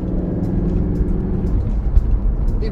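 Mercedes-Benz SLS with a 6.3-litre V8 engine, a loud deep continuous rumble heard on the move, steady with no talking.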